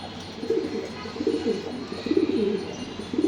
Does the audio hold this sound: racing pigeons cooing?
yes